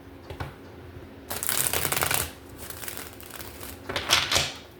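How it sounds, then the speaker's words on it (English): Tarot cards are shuffled by hand in a few brisk bursts of riffling and flapping, close and fairly quiet, with short pauses between bursts and no talking. "I'm going to shuffle while we read"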